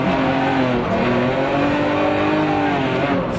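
Drift car at full throttle during a King of Europe drift series round in 2011, engine roaring loud and steady with continuous tire squeal and harmonic revving throughout, close and alone.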